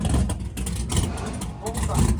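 A budget-built race car with open headers and a Powerglide transmission, revving at high RPM: a loud, rough engine roar that pulses and surges over a couple of seconds.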